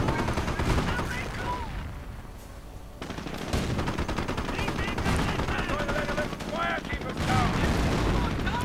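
Light machine gun fire in a strategy video game, dense continuous bursts of gunfire mixed with battle noise and explosions, while a commentator talks over it.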